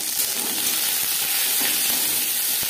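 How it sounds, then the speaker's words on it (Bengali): Onions frying lightly in refined oil in a pan, giving a steady, close sizzling hiss with a few faint stirring knocks and no voices. "সবার প্রথমে পেঁয়াজ ভেজে নেব, হালকা করে ভেজে নেব।"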